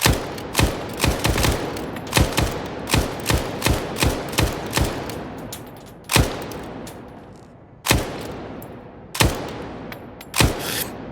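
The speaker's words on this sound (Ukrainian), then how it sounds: "давайте з цього простенького, не танкового кулемета теж спробуємо." Sharp machine gun fire in S.T.A.L.K.E.R. 2 cracks out in quick repeated shots at first, then slows to single spaced bursts, loud and close with no talking.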